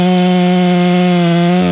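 A chainsaw runs at full, steady throttle while cutting the hinge of a large silver maple during a rigged tree removal, a loud, close, continuous buzz that dips slightly in pitch near the end.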